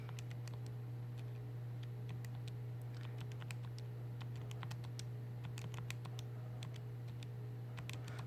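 Keys tapped on a graphing calculator while entering values, a string of small, irregular clicks close by over a steady low hum, with no talking.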